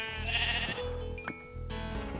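A sheep in the video game Minecraft bleats in a few wavering, nasal calls, clear and close, with no talk over them.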